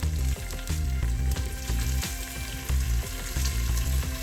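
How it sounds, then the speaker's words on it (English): Pre-cooked sausages frying in a pot on medium-high heat for minestrone, giving a loud, close, continuous sizzle with light stirring clatter. "get the sausages going"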